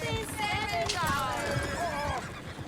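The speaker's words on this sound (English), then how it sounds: "Oh, shit, the horses!" Horses in the Red Dead Redemption 2 video game whinny and neigh in a rising, wavering call, with hooves clattering and someone talking over them throughout.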